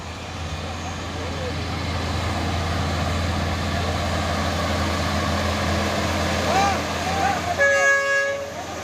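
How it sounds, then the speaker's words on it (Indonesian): A truck trailer rumbles past on the road in Indonesia, a low engine drone swelling toward the end where a loud horn toot sounds, with faint voices underneath. "Waduh, si truk."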